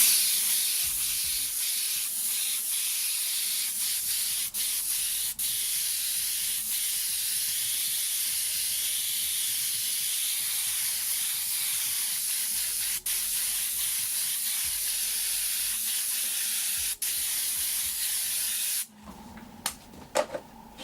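Airbrush spraying a generous wet coat of reddish brown paint, a steady close hiss of air lasting nearly twenty seconds with faint clicks, then cutting off into a few soft handling knocks.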